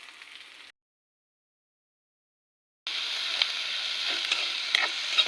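Green chillies, shallots, onion and curry leaves fry in hot coconut oil for a beef curry. A steady, close sizzle plays briefly, drops to a gap of silence, then returns louder with crackling pops.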